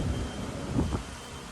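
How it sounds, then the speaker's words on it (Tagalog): Steady low rumbling wind buffets the microphone throughout in a garden during a storm, a constant broadband roar with a brief gust swelling near the middle. "Kasi look, oh, malakas ang hangin."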